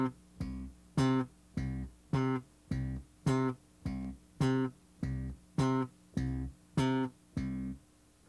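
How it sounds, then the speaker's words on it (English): Slap bass played in short staccato notes, the fingers lifted to deaden each one at once: about thirteen crisp, evenly spaced plucks in a steady pulse, played alone with silence between them. "you want to lift your fingers to deaden the note right away to give you a very short staccato"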